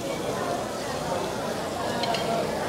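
Food fries in a pan with a steady, close sizzle that runs the whole time, and a faint clink of cookware sounds near the end.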